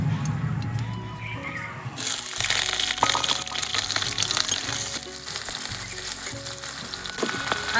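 Dried red chillies, chopped onion and chopped green chilli dropped into hot oil in a heated kadai, a quiet start that bursts into a loud, close, continuous sizzle and crackle with occasional stirring knocks.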